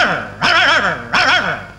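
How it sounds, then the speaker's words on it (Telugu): Dog in a film scene giving two loud, whining bark-like yelps about a second apart, close and emotional, each rising then trailing off. "ఏంటే కుక్క అట్టా సొస్తున్నావు?"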